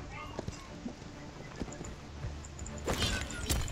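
Clip-clopping hooves from a fiery horse mount in the video game Paladins sound at a quiet level, with a soft, irregular beat. Faint game effects mix in, and the hooves briefly grow busier near the end.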